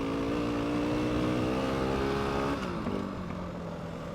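A dirt bike engine holds a steady note in third gear at constant throttle out on a trail, its harmonics droning evenly and loud before shifting slightly in pitch near the end.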